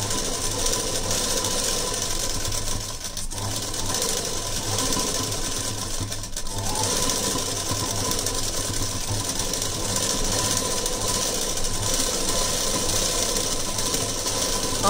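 A sewing machine stitches a long puff sleeve onto a blouse body in a continuous fast mechanical whir and rattle, close and steady, with two brief dips in its running and no talking.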